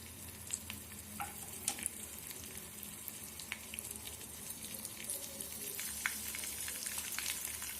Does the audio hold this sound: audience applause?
no